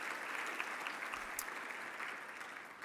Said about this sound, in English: Please join me now in a round of applause for Mayor Castor and her host team.